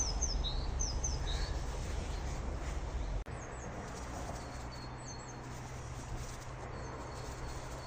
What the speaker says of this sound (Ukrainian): Як гарно пташки співають.